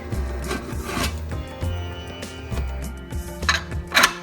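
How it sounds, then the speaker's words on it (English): A lid set onto a cooking pot of mutton curry, with close scraping and rubbing metal sounds and a few sharper clinks toward the end. "Cover it with lid."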